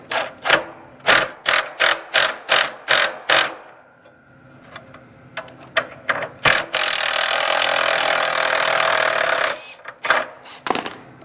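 A socket wrench drives screws into the bottom of a Miller 252 welder. A run of loud, close, evenly spaced ratcheting strokes is followed by scattered clicks, then a sustained whirring stretch, and more quick strokes at the end.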